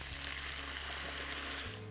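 Cream is poured into a pan of hot bacon fat with Hungarian cherry tomatoes and sizzles loudly and steadily at close range before quieting at the end.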